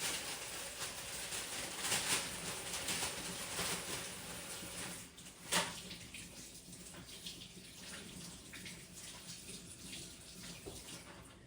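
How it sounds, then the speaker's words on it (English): Grapes rinsed under a running kitchen tap, a continuous soft splashing and trickling with small bursts and one brief louder splash midway, quiet and close with no talk. "I'm just sort of just giving them a good little rinse"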